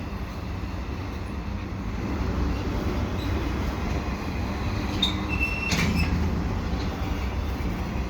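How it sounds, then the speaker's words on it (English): A CN double-stack freight train rolls past at Dorval with a steady, heavy roar of wheels and cars, and brief metallic wheel squeals cut through near the end. "But it's not often that I get a CN double stack here at Dorval."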